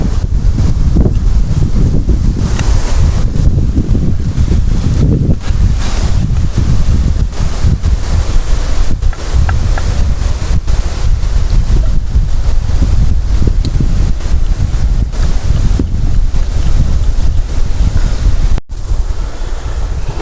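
Strong wind buffets the microphone continuously, a loud roaring rush with gusty surges throughout, no voices.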